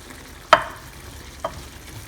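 Two sharp clinks of a spoon against a pan while a curry of green tomatoes with jaggery and crushed peanut powder is stirred, over a soft steady sizzle.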